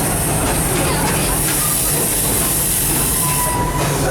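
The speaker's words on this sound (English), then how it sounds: "please remain seated till this train has come to a full and complete stop" Serengeti Express train at Busch Gardens rolling to a stop, a steady loud rumble and hiss with faint wheel squeal running throughout.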